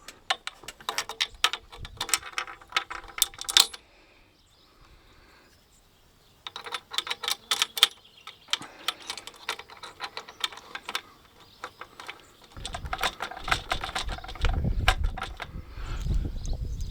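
Bolts are fitted into a new roof rack on a Range Rover L322 with bursts of sharp ratcheting clicks, close and brisk, separated by quiet pauses, then a dull rumbling handling noise near the end.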